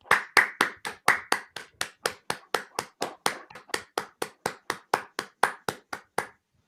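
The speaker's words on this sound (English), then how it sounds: "A virtual round of applause for them" Hands clap alone in a steady, evenly spaced series of about twenty-five sharp claps, close and fairly loud, a single person applauding for the cast of an online theatre festival performance.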